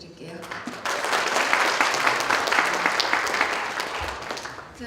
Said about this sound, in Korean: 좋은 말씀 해주신 모건대학교 박능원 총장님께 박수 부탁드릴게요